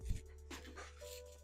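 Puppies panting close by indoors, a short soft burst at the start followed by quieter breathy sounds over a steady low room hum.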